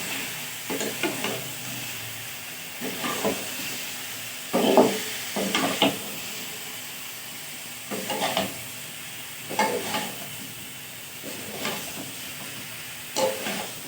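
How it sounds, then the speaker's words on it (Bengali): Vegetables, including fried bakuli and steamed potato, are stirred into a spice masala in a pan, with bursts of sizzling and scraping stirs recurring every second or so over a steady low hiss. "দিয়ে এবার এটাকে ভালোভাবে কষিয়ে নেব মশলার সাথে।"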